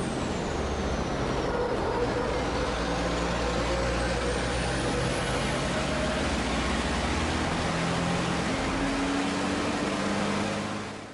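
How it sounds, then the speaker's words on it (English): An on-board racing truck roars at full power on the Nürburgring during an overtaking move, a loud, continuous engine and wind roar with shifting engine tones throughout. "On board with Norbert Kish, this shows the decisive overtaking move for the win"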